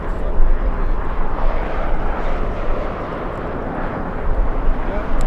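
Steady broadband roar of an American Airlines airliner, flight 1135, at LAX on a day of strong winds, a continuous jet rumble with gusty wind noise and no distinct passes or breaks.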